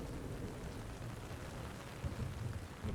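Steady rain hiss with low thunder rumbles in a stealth video game's guerrilla camp, a soft continuous wash with a couple of slightly louder swells toward the end.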